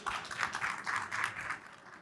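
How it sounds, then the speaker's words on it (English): Audience applause for a panel of speakers at a CFO forum in Jaipur, sounding as a steady, moderately loud wash of claps that holds for about two seconds and fades slightly at the end. "A huge round of applause for all our panelists here."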